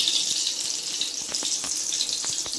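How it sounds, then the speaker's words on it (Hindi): Two spoonfuls of ghee go into a cooking pan while making nutritious postpartum ladoos, giving a steady, fairly loud hiss and sizzle with a few faint clicks throughout. "ये 2 चम्मच घी डालूंगी मैं"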